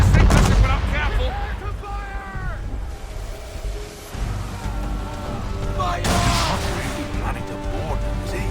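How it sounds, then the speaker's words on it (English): A man-of-war warship firing its cannons at sea in Assassin's Creed 3, heavy booms mixed with shouted orders, crew voices and dramatic music throughout. "Man of war's firing!"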